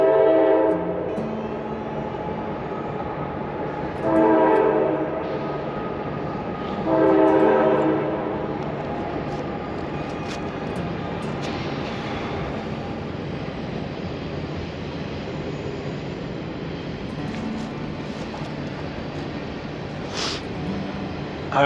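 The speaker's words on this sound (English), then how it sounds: "you can hear the train." A train rumbles steadily nearby, and its horn blows twice early on before the rolling rail noise carries on alone.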